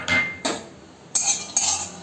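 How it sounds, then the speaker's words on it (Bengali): Nuts are dry-roasted in an ungreased pan while being stirred with a metal utensil, giving four short, bright scraping clinks against the pan in a quiet kitchen. "শুকনো খোলায় বাদামগুলোকে ভেজে নেব"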